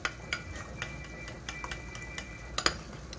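Ingredients and water rattle inside a covered container as it is shaken by hand in a kitchen, making a quick, light tapping and clicking rhythm with a few sharper knocks near the end.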